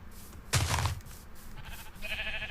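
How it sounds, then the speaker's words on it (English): Sheep in the game Minecraft bleat in a few short calls, one loud nearby bleat followed by fainter ones, over quiet background game sounds. "And more sheep."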